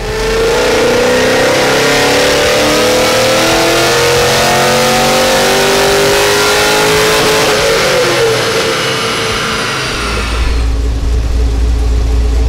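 LS1 V8 engine in a Mazda RX7 revving during tuning, a loud sustained rise in engine pitch held high for about ten seconds before cutting back to a deep rumbling idle.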